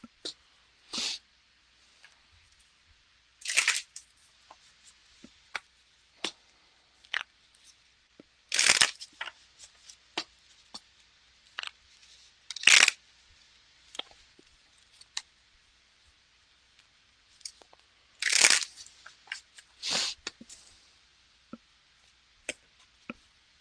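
Tarot cards being shuffled by hand up close give quiet, intermittent riffling bursts and soft taps, with brief pauses between handfuls and no speech.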